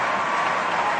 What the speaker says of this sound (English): I bet you never thought Hillary would get an applause at this convention